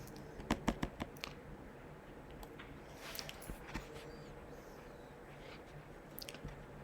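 Quiet typing on a computer keyboard, with a quick burst of clicking keystrokes near the start and scattered key presses afterward, close and soft.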